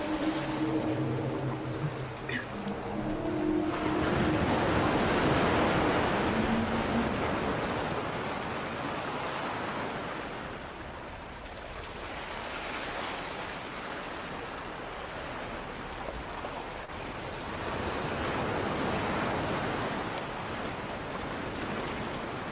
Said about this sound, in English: And now we're going to see the bridge flooding.